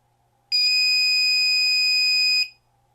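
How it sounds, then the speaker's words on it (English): An Aims Power 500-watt inverter gives a steady, piercing electronic low-battery beep that holds for about two seconds, then cuts off, over faint low background hum. "If I dial this down, I should get a low battery beep sometime in here."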